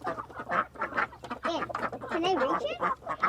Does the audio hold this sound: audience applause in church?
no